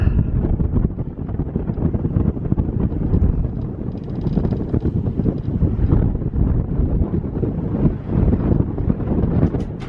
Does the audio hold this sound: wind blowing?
yes